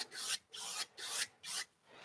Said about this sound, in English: And then blend the sky with this brush.